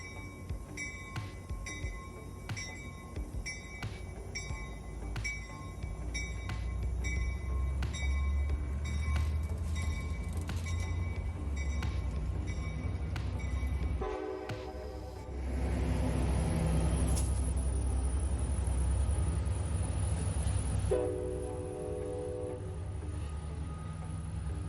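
Amtrak Capitol Corridor passenger train departing Oakland's Jack London Square station northbound, a rhythmic clatter of wheels over rail joints building into a loud continuous roar, with horn blasts sounding midway and again near the end.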